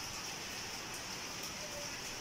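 Heavy rain pouring down, a dense steady hiss of falling water that holds even and fairly faint throughout, with no voices.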